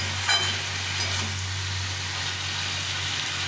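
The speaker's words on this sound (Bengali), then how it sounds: "সামান্য একটু জল ছিটিয়ে দেবো, ভালো করে ভেজে নেবো" Vegetables and small morola fish fry in a pan for chorchori, with a splash of water sprinkled in. The result is a continuous close sizzling hiss with a brief spatter near the start, and no speech.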